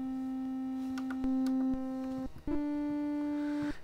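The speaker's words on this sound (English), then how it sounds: "I'm going to start off with the basic waveform again." Basic waveform on a Raspberry Pi-based Commodore 64-style synthesiser: steady, pure electronic tones held in turn, a few sustained notes changing pitch with small clicks between them, fairly quiet and without voices.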